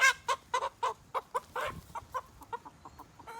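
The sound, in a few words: chickens clucking at coop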